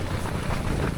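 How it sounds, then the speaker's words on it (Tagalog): Strong wind blows at a beach campsite in Pangasinan beside a tent, with loud continuous rushing and microphone buffeting filling the whole moment, close and unbroken. "So ayun, medyo malakas yung hangin, no?"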